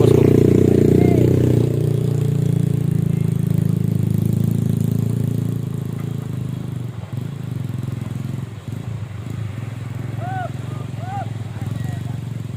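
A Hino 500 truck engine idles and labours low and steady while reversing along a muddy road, loud at first then easing back slightly, with voices talking over it.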